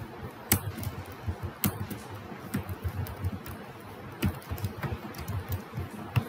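Typing on a computer keyboard, scattered key clicks with a few sharper louder strikes, close by and alone without talking.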